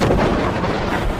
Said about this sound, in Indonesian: suara tembakan menggelegar memenuhi ruangan